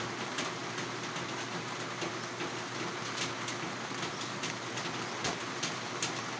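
Steady rain falls during a typhoon-signal storm, a dense, even hiss with scattered sharper drop patters throughout, continuous and fairly close, with no talking.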